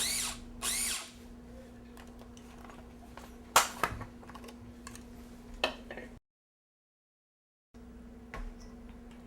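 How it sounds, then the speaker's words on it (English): A food grinder pulses ingredients for sweet potato cakes in a few short, loud bursts separated by pauses, followed by a brief silent gap. "Make sure you pulse it rather than just hit grind, otherwise it turns into this mush"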